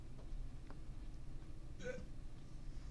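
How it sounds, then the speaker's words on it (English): A person hiccups once, a short sharp gulp standing out over a steady low background hum in a classroom setting. "Uh-oh, somebody's got the hiccups."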